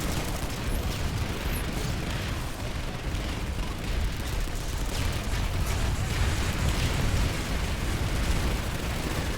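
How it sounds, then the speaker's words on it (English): Dense, continuous rumble of distant battle noise in a video game, with scattered pops and bursts of gunfire, steady and loud throughout, no voices. "the most gunfire seems to be coming from behind it"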